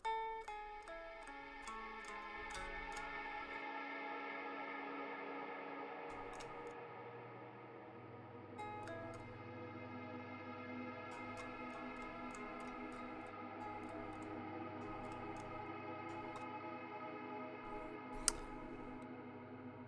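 Electric guitar played through a reverb model in Pod HD Edit, sustained chords and notes blooming into a long, washy reverb tail, steady and fairly full with a brief sharp click near the end, no voices.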